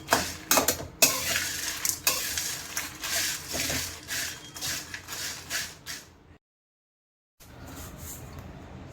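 Whole spices with fenugreek seeds being dry-fried and stirred in a pan for garam masala, giving close, rough scraping and rattling for about six seconds, then a pause of silence before quieter stirring resumes.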